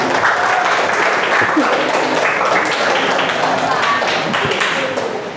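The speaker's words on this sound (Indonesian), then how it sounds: "tepuk tangan dulu buat teman-temannya" Classroom students applaud their classmates with dense, steady clapping that fills the room, with a few voices mixed in, and it tapers off slightly at the end.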